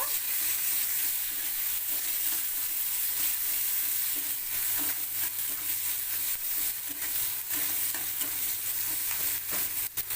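Onion fries gently in oil in a pan for a pomfret fish dish, with a continuous low sizzle and occasional stirring scrapes across ten seconds and no voices.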